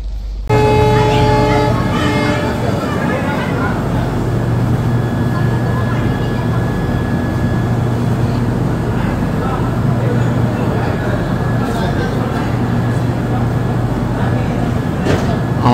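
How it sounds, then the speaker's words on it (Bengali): The Padatik Express pulls out of platform 3 at New Alipurduar station, a sustained low hum and rolling rumble starting with a sharp onset and carrying on steadily, with a faint voice heard in places. "আমাদের ট্রেন নিউ আলিপুরদুয়ার থেকে রওনা হলো শিয়ালদার উদ্দেশ্যে 3 নম্বর প্ল্যাটফর্ম থেকে"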